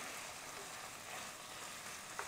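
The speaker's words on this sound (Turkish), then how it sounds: "Biberi de 1-2 dakika çevireceğim." Steady sizzling of chopped peppers stir-frying in a pan over constant high heat, a continuous crackling hiss with no talking.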